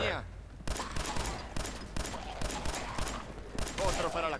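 Rapid gunfire in Fallout 4 survival mode: dense bursts of shots and automatic fire in quick succession, loud and close, filling the clip.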